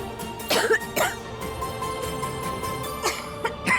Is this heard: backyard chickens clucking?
no